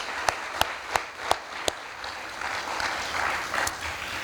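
A handful of sharp, separate claps ring out in the first two seconds from an audience honouring a committee at the Con Hogan Award ceremony, then fade into a soft, steady crowd rustle with one more late clap.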